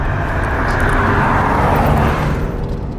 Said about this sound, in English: At tick over, they sound fairly tame, but as I wind this out, that's beautiful.